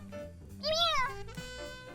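A big cat meows in the Brawl Stars video game, one drawn-out, wavering cry rising and falling over soft game music, with quiet background chatter around it.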